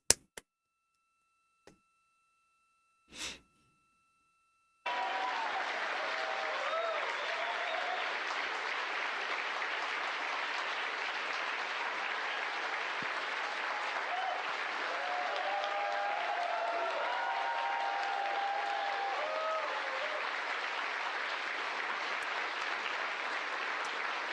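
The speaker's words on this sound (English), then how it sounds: "Everybody give a round of applause" Steady applause and clapping follow the four Artemis astronauts leaving their spacecraft after landing, starting abruptly after a few seconds of near-silence and sustained evenly for about twenty seconds.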